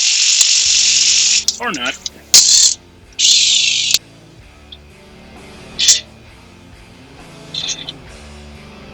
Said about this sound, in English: Thankfully, an impact should make light work of these.